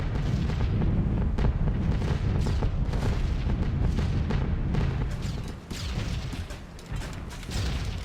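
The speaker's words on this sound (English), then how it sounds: "When will this flak ever end?" Flak bursts from anti-aircraft fire over the Ruhr Valley in a B-17 Flying Fortress flight game, repeated muffled booms and cracks over a constant heavy bomber engine drone.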